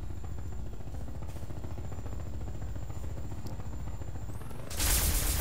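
A Combine dropship flies in Garry's Mod with a steady, loud low-pitched engine drone and throbbing rotor pulse that holds throughout, then a louder hissing rush swells in near the end.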